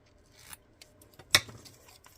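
Scissors make a few quiet snips while trimming Highland ribbon at a papercraft desk, with one sharper cut standing out among soft rustles.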